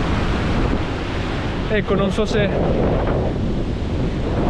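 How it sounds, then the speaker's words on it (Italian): Heavy sea surf with waves of six to seven metres pounding the Australian coast near Byron Bay, a constant loud roar mixed with gusty wind buffeting the microphone, while someone speaks briefly over it. "Guardate quanto è forte il mare."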